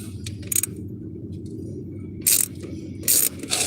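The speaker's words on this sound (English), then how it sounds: "use the ratchet to ratchet it down and then torque wrench to tighten it up" A ratchet clicking in short bursts while tightening down a part during a repair job, several separate ratcheting runs over a steady low background hum.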